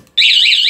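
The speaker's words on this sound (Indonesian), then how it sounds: "ini alarmnya" A motorcycle alarm fitted to a Yamaha F1ZR two-stroke motorbike switches on abruptly after a brief silence, a loud, close, continuous high-pitched warbling siren tone that wavers rapidly up and down.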